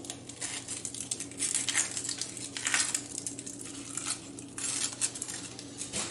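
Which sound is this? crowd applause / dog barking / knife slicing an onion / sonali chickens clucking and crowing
knife slicing an onion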